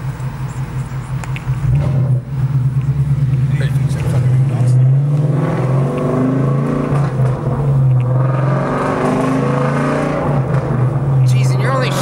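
A loud 5.0 V8 engine revving and upshifting at low rpm, deep steady rumble with rising pitch sweeps between gear changes, heard close from inside the car with people talking over it.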